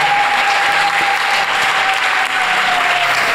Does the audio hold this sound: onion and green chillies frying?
no